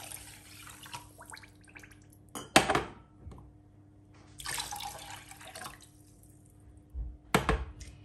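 Water poured into a pan of sugar to make syrup, a few short splashing pours and sink-tap bursts separated by quiet gaps, with faint clinks of kitchenware nearby.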